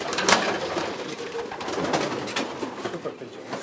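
Racing pigeons cooing in a Belgian champion fancier's loft, with close, repeated soft coos and wing flutters and rustling over a busy background, and a faint voice now and then.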